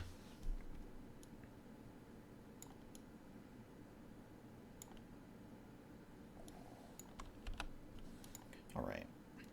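Light, steady tapping on a computer keyboard runs throughout at a low level with scattered louder clicks over a faint background hiss, briefly swelling near the end.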